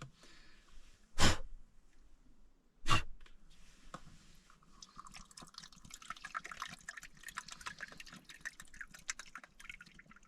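Water poured from a measuring cup, three-quarters of a cup for camp cooking on a truck camping trip, heard as a steady trickling splash over the last half, after two sharp knocks near the start.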